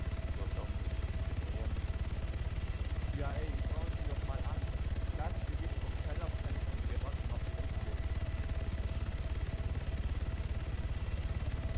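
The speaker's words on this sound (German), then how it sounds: "Was macht denn der Heli da oben jetzt?" A steady, loud helicopter rotor thrum from the video game Arma 3 drones throughout while voices talk over it.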